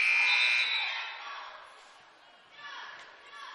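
A high school girls' basketball gym buzzer blares loud and steady for about a second, then fades into gymnasium crowd noise before a softer second tone, with voices in the background.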